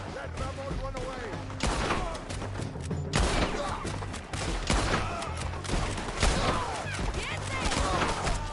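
Gunfight in the Red Dead Redemption 2 video game: a dense, continuous fusillade of gunshots and heavy impacts, loud and close, with shouted voices woven through the shooting.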